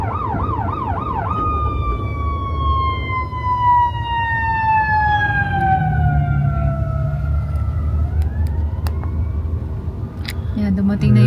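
A fire truck siren wails in a fast yelp that shifts into a long falling tone as the truck passes along a city street, with heavy traffic rumble beneath and people talking nearby.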